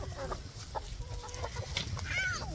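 Chickens on a homestead after damp, warm storm weather give soft, scattered clucks and a few higher chirps, moderately near against a steady outdoor background, with no voices.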